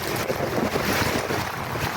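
Strong, steady wind roaring and buffeting during a heavy nighttime rainstorm, with a broad rushing noise and no voices.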